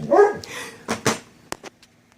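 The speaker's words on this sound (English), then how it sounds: "Sorry for my delay. The dogs." Several dogs bark close by in quick, uneven bursts, with a few sharp yaps trailing off into quieter yips over about two seconds.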